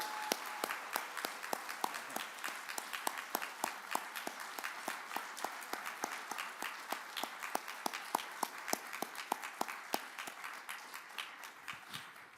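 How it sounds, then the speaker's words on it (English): A small audience at a disabilities summit gives sustained applause, with distinct individual claps ringing out clearly and steadily for over ten seconds. "let's give him a big round of applause"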